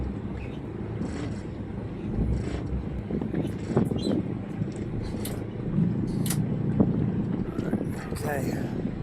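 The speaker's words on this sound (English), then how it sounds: "Wind is really serious." Strong wind buffets a 1990 Bayliner 3888 motor yacht, a steady roaring rush over the microphone with engine rumble underneath, while people talk on board throughout.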